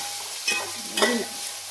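Sliced onions sautéing in a pan for beef curry, a soft steady hiss with two louder spatula stirs close by.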